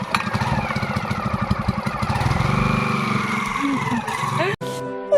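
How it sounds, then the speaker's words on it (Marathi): A small pesticide sprayer pump engine in a mango orchard fires up and settles into a steady, close chugging run, its rapid putter later smoothing into a droning whine that cuts out briefly near the end. "मगापासून इंजिन चालू व्हायच नाही होता, तर आता चालू झाला"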